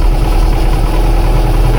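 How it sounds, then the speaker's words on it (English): The port engine of a classic speed boat, which has an idle-circuit fault, runs at a loud, low, rough idle that shakes and wavers as it struggles toward stalling, with no voices. "this port engine still tries to stall sometimes, like it's doing now"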